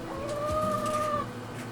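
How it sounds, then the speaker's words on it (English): Backyard chickens giving a drawn-out clucking call that runs for about a second, close and clear over a low steady outdoor background. "Chickens, where are you?"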